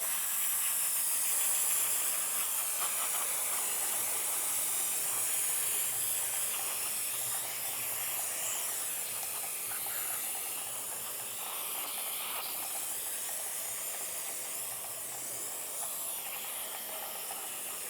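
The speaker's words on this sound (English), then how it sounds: "And now I can take some parts cleaner, clean that up." Parts cleaner sprays in a long steady hiss onto the rear brake hub of a 2012-2018 Nissan Altima, continuous and fairly close, easing slightly partway through, with no talking.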